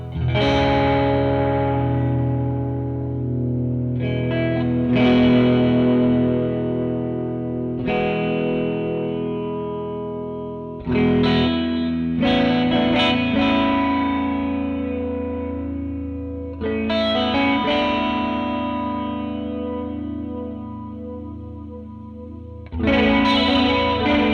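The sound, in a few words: Death By Audio Disturbance pedal flanger sound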